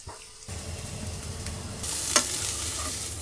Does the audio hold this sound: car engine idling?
no